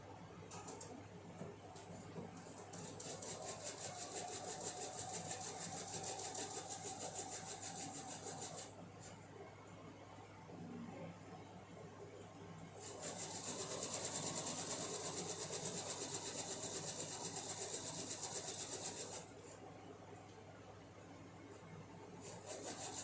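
Sewing machine stitching the last row of a 12.5-inch zinnia quilt block, two long steady runs of close, even motor whir, each several seconds, with a short quieter pause between them.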